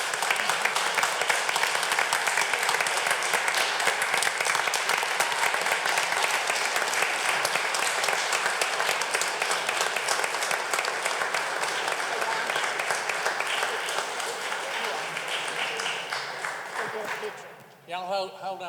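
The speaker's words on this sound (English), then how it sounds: "Everybody give them a round of applause." Audience applause fills a county board of commissioners meeting, dense and steady from start to finish, fading out near the end as a voice begins.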